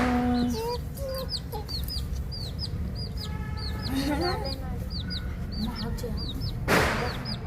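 A chick cheeps in repeated high, short, chirping peeps close by, with a lower clucking hen and a person talking underneath for most of the stretch.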